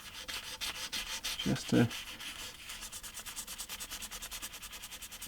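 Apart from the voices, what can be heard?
sanding a Gibson SG guitar's finish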